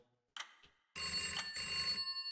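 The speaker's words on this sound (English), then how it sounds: "did the telephone in the receptionist's office just ring?" In a murder-mystery hotel video game, a telephone bell rings in the receptionist's office: a short burst, a pause, then a long sustained ring, loud and clear, with no voices.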